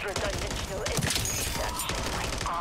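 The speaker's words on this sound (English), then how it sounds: "Taking effective fire." Dense automatic gunfire rattles continuously in a Call of Duty MWZ video game battle, loud and close, mixed with other game effects.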